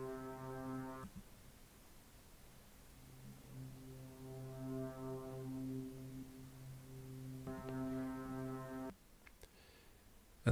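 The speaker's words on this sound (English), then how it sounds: "That is the Weirdo, a fantastic tool for creating soundscapes" The Weirdo synth in Reaktor, with its filter switched on, produces a low, droning soundscape of sustained foghorn-like tones that swell and fade in long phrases over a soft noisy bed, fairly quiet and without voices.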